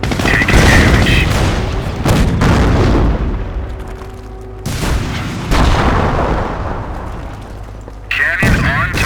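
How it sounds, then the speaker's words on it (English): Tank cannon booms in Company of Heroes, several loud heavy shots spaced apart amid battle noise, with voiced unit callouts in between. "Cannon on target. Firing on the attack."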